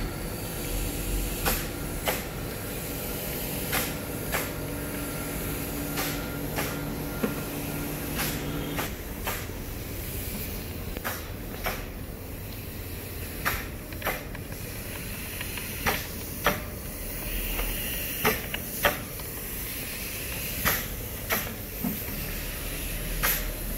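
An oil filter machine runs steadily while filtering oil, giving a constant hiss with a low hum beneath it and occasional sharp clicks and ticks, without speech.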